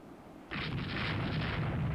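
Warship blowing up after a turret hit and flash fire in the naval strategy game Rule the Waves 2: a sudden loud explosion that erupts and then sustains as a heavy rumbling roar, with no voices.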